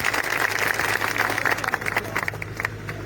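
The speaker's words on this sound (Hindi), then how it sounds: "अपने लिए जोरदार तालियां बजाएं" Loud, dense applause from an audience at a Luv-Kush birth-anniversary celebration, steady hand-clapping filling the whole stretch without pause.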